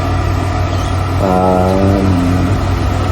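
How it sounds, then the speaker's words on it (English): A power inverter in a trailer's technical room runs its cooling: a loud, continuous mechanical hum and whir throughout, with a tonal whine that rises briefly and then fades back into the drone. "that sound in the background that you're hearing is the inverter, which is just running to keep itself cool"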